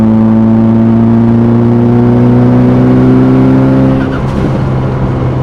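A tuned Nissan Pulsar GTiR at roughly 350bhp pulls hard, its engine note climbing steadily and loud from close by, then easing off as the driver lifts near the end.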